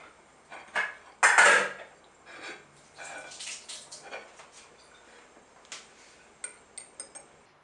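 Metal spoons clink and clatter against dishes in a kitchen, a loud cluster of clanks near the start followed by lighter scattered taps and ticks, close by with no talking.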